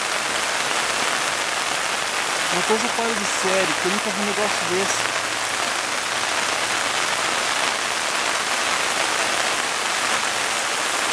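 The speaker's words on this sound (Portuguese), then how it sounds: "já passa de 48 horas de chuva aqui em Maringá" Heavy, prolonged rain pours down in Sarandi, Paraná, a steady dense hiss that fills the whole scene from start to finish while someone speaks briefly over it near the middle.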